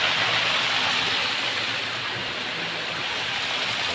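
River water flowing at a resort, a steady broadband rushing hiss like a stream or small waterfall, constant and fairly loud with no voices.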